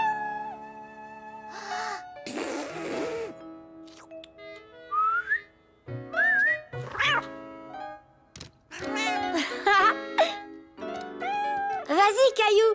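Short whistled notes, some sliding up in pitch, come in bursts between tonal musical sounds and a few soft knocks.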